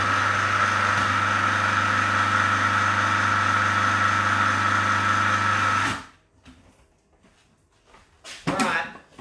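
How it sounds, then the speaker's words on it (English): A blender runs loud and steady, whirring through a thick vegan brownie mixture for about six seconds before cutting off abruptly, leaving faint rustles and a brief clatter. "All we're going to do now is blend that down again."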